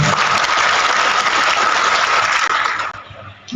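An audience at a training-day lecture claps in a dense, loud, sustained burst of applause that thins out near the end.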